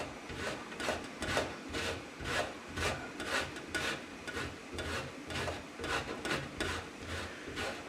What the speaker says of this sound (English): I'm going to use this really fine grater.